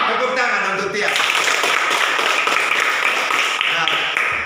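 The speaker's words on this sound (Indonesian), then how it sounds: "Tepuk tangan untuk Tian" A classroom of students gives a classmate a round of applause; the dense, steady clapping follows a brief voice at the start.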